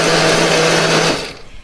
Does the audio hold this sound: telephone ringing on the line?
no